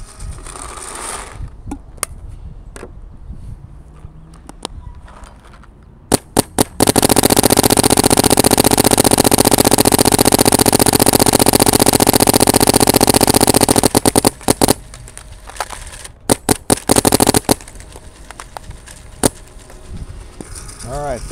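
A Planet Eclipse 170R paintball marker fires loud, close sharp pops, first a few scattered shots, then a dense sustained run of rapid fire lasting several seconds, followed by more separate bursts.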